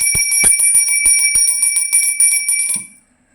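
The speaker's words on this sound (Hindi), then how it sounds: "भोग की भावना करके आप घंटी बजाइए" A small brass hand bell rung during a Dhanteras puja gives a rapid run of bright, close metallic rings that shimmer and overlap, then stop abruptly and fade to silence.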